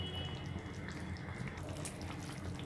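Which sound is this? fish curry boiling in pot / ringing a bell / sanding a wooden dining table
fish curry boiling in pot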